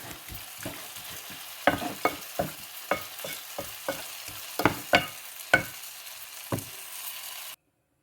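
Long beans and potatoes in a stir-fry curry are stirred in a pan, making a rhythmic run of sharp spatula scrapes and knocks over a soft sizzle, close and clear, stopping abruptly near the end.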